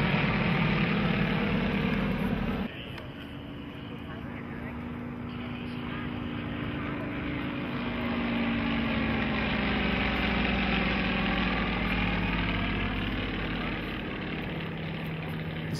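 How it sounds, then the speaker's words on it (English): Yakovlev-designed trainer airplanes fly at an airshow over water in Dillon, Colorado, producing a continuous droning propeller engine roar that dips briefly then swells again, with a voice talking over it. "both of these airplanes are designed by the Yakolev Design Bureau in Russia"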